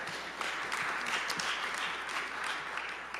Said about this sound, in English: That deserves some applause, by the way.